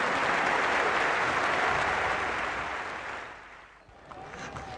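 Crowd at a Test cricket match applauding a batsman's fine on drive and half-century, a broad, loud, sustained roar of clapping that fades away before a few scattered claps return.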